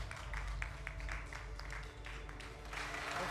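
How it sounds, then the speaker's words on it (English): A crowd at a beauty pageant show claps for a contestant, a quiet spread of scattered hand claps over a low hum, distant and faint throughout. "Shall we clap for Minkia, please?"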